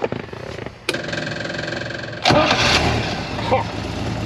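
An old Land Rover 109 engine cranks and catches, then settles into a rough idle before revving louder; a brief clunk sounds first, no talking.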